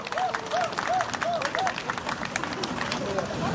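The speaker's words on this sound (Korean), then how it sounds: "박수 한번 주시기 바랍니다." An audience at an outdoor ssireum wrestling festival on a beach claps and murmurs, moderately loud and continuous, with voices and a melodic tone heard over the clapping.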